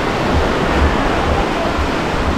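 Sea waves washing onto a beach, a steady broadband roar of surf with low rumbling surges, close and loud with no voices.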